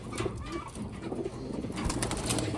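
Newly arrived Taiwan racing pigeons coo softly and steadily at close range, with a faint rustle of birds moving in the loft and no talk.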